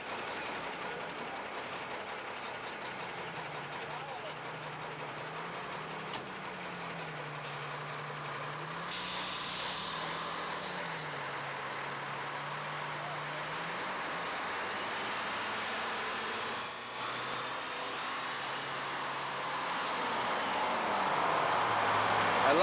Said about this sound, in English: I love the cackle of a diesel.